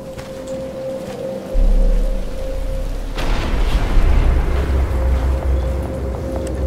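Steady rain falls in the video game Batman: Arkham Asylum, a hissing broadband wash over a low rumble and a humming drone, thickening partway through with no voices.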